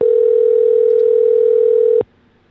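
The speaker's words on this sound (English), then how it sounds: "We're going to hear a ringtone." Telephone tone on a radio show's outgoing call to a guest: a single loud, steady electronic tone held for about two seconds, then cut off abruptly into near silence.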